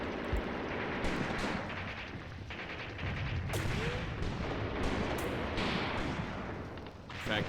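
Artillery and small-arms fire in the war game Graviteam Tactics: Mius-Front rumble continuously, with sharp gunshot cracks and distant booming blasts layered over a dense battle din for the whole stretch.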